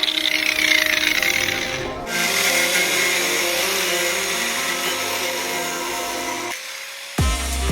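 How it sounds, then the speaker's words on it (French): An angle grinder cuts through a camper chemical toilet in a Hymer motorhome with a continuous loud whining grind, pausing briefly and restarting, close with no talk. "Avec un coup de disqueuse, on a fait une découpe afin d'enlever toute la partie inférieure."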